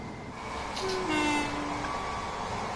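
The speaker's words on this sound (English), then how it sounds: "the trains, even though they sound realistic, I don't like the sound of them. They just sound like they're battery powered" A Long Island Rail Road train rumbles along in Train Sim World 2020, its steady running noise rising briefly in the middle with faint tonal whines, heard alone with no talk.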